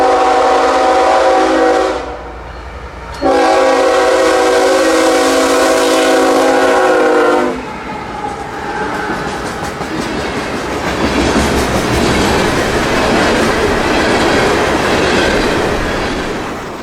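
A loaded mainline unit coal train, NO41, roars past at close range: a sustained, loud horn blast sounds twice, then the steady rumble and clatter of the passing cars carries on, with no talk.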